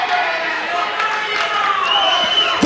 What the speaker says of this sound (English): Listen to the chants again for Warrior, Warrior.